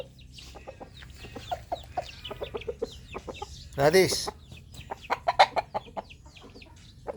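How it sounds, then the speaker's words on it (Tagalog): Chickens clucking with brief squawks and rustling close by, mixed with the scattered chatter of birds, while a person speaks briefly nearby. "Tutukain ka ng manok dyan."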